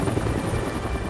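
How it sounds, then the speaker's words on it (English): Military helicopter rotor thumping in a fast, steady beat with a loud droning engine, close and continuous throughout the short span. "One by one, the choppers came and left with their cargo."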